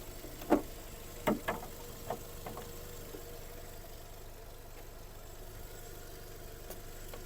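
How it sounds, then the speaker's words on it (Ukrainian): A Volkswagen Golf Plus 1.6 MPI engine idles with a steady low hum, accompanied by a few sharp ticks and knocks early on, then an even drone. "Робота двигуна."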